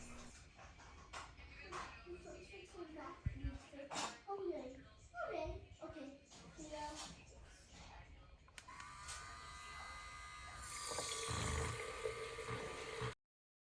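A handheld electronic milk frother whirs steadily in whole milk on low mode near the end, a brief buzzing hum preceded by people talking and a voice.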